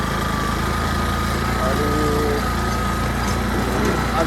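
A homemade buggy car built in Nepal runs with a steady, buzzing small-engine drone, close and continuous throughout, while a voice speaks briefly over it.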